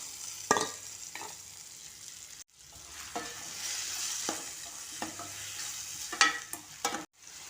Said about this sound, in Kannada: ಬೆಳ್ಳುಳ್ಳಿ ಎಲ್ಲ ಎಣ್ಣೆಯಲ್ಲಿ ಹಾಕ್ತಾಯಿದ್ದೀನಿ. ನೆನೆಸಿ ಇಟ್ಕೊಂಡಿದ್ನಲ್ವ ತೊಗರಿಬೇಳೆ ಹಾಕ್ತಾಯಿದ್ದೀನಿ.